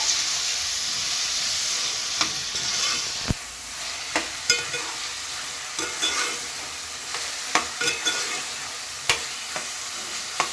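Green chillies and okra with brinjal sizzling steadily in a hot pan, a continuous frying hiss broken by scattered sharp clicks and scrapes of stirring, close and alone with no talk.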